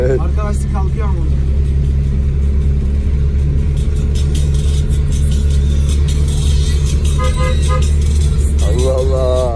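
A Tofaş Şahin car's engine labours under strain, unable to climb, a loud continuous low drone and rumble throughout, with people talking over it.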